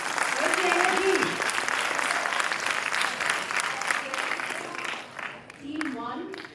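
Sustained loud applause from a group of school students at a military history quiz competition, with cheering voices rising over the clapping near the end.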